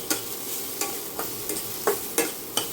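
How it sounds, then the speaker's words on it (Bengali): A spatula scrapes and stirs onions in a pan with very little oil about six times at a steady pace, over a soft continuous sizzle of frying. "অল্প পরিমাণ, বেশি ভাজার কোনো প্রয়োজন নেই, হালকা একটু কাঁচা গন্ধ গেলেই হবে পেঁয়াজটা"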